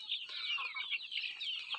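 A single backyard hen on a low-cost farm clucks softly and continuously nearby, a steady stream of quiet, close-up murmuring calls with no talk over them.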